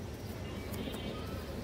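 Soft, low pigeon coos murmur from a fancy loft pigeon flock, faint and close, with a few brief sharper bird chirps over a steady background.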